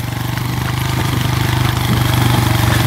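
Motorcycle engine during slow riding practice, a close, steady throbbing putter at low revs that grows gradually louder.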